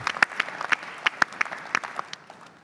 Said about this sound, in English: a round of applause and welcome